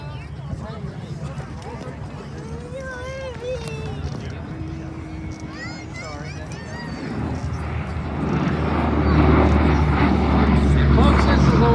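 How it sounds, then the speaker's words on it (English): A B-17 bomber, its 1,200-horsepower radial engines droning, approaches during an airshow bomb pass, the low rumble swelling loudly toward the end under a busy crowd with scattered talk and chatter. "this is the last bomb pass for the B-17"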